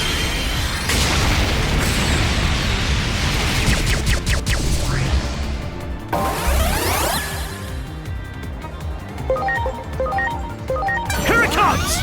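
Dark Explosion attack effect from Digimon Story Time Stranger: a series of loud crashing, booming impacts and bursts, with energetic hits layered over one another and a short pause before a final burst.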